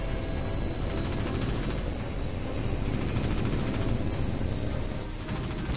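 Sustained rapid gunfire from an aircraft cannon in the jet combat game Tom Clancy's H.A.W.X. 2 during a ground vehicle attack, a dense continuous roar of shots filling the whole stretch at steady loudness.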